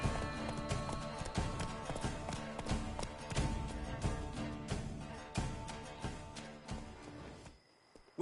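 Roach the horse trots in the Witcher 3 video game, a dense run of rhythmic hoof clip-clops over a busy game soundscape, cutting off abruptly near the end.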